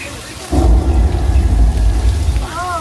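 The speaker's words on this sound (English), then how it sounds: "Let's turn on the rain now." Artificial rain at a theme park suddenly starts pouring with a loud rushing roar, drowning out a quieter ambience; a brief whistling tone rises near the end.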